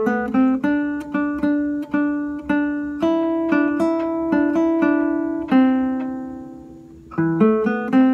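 An acoustic guitar plays a phrase of a Latin tune, clear single plucked notes in a steady rhythm with repeated notes on one string, ringing out alone with no talk.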